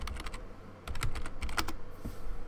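Quick bursts of clacking keystrokes on a computer keyboard, close and clear, with a short pause in between and no talking.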